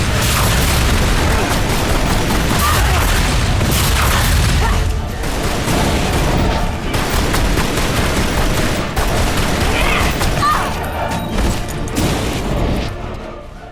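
Rapid gunfire and heavy booms fill a final battle in the video game Tomb Raider Anniversary. The loud, dense barrage runs continuously from start to finish and thins slightly near the end.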